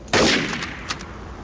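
A single sharp gunshot in Garry's Mod (Trouble in Terrorist Town mode), loud and close, with a short decaying tail and a fainter second report just after, no talk.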